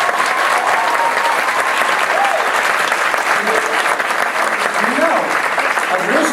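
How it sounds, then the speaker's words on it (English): Sustained applause from a large audience at a volunteer gala, dense steady clapping throughout with a few faint voices and cheers mixed into the crowd noise. "So why don't we start with just a round of applause for all of you."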